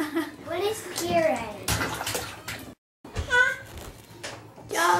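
A young girl splashes in bath water at home, with small sloshing and splashing sounds mixed with her babbling and an adult talking close by, and a brief silent gap partway through.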